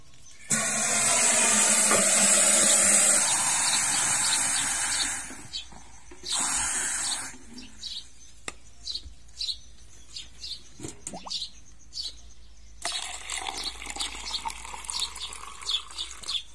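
Water poured onto an Adenium plant in a pot, a steady loud splashing hiss lasting several seconds, then a second brief pour followed by scattered drips and trickles.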